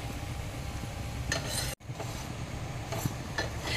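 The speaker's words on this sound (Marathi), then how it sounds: "आता दुसऱ्या साईडने पण आपण भाजून घेऊया." Puran poli roasting on a hot griddle, a steady soft sizzle running throughout with a few faint scraping touches and one brief dropout midway, no voices.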